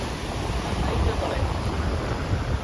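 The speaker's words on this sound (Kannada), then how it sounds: "ಸಮುದ್ರ ನೋಡಿ" Sea waves wash onto Kodi Bengare Beach in Udupi, a close, steady broadband roar of surf mixed with gusty wind buffeting the microphone, with no break for the whole stretch.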